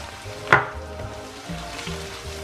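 Puree going into sizzling Gari Fortor with shallot in a pan, one sharp splat as it lands, followed by a steady low frying hiss with no talking.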